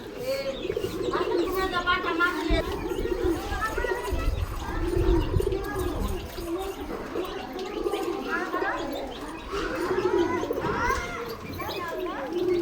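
Domestic pigeon cooing in repeated throaty, gargling rolls that carry on through the whole stretch, fairly close, with other birds and faint voices in the background.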